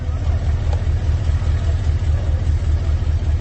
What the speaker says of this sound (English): Someone's got a nice, great Chevy V8 somewhere around the area.